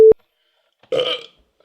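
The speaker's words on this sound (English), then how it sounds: "that was the most flavorful burp I've ever had" A single short, throaty burp from a person after drinking Pappy Van Winkle 20 year bourbon, close and fairly loud, following a brief electronic beep and a pause of silence.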